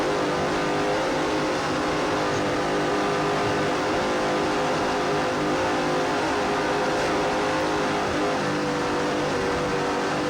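Racing powerboat engines roar from on board during the 1993 Quake on the Lake, a dense, loud, unbroken drone that holds steady throughout with no voices.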